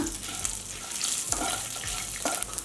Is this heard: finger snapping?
no